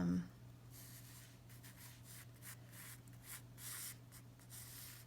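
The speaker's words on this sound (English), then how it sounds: "then I'll just sketch in really quick some of those lines" A pencil sketches quick lines on paper while drawing an egg chair, giving soft, close scratchy strokes in short repeated bursts, faint and steady.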